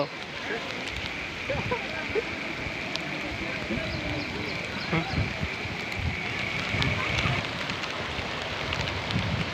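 Rushing floodwater surging through the flooded village of Kanpar near Vallabhipur, Bhavnagar, after heavy rain: a broad, continuous roar of water with wind buffeting the microphone, staying steady and close throughout.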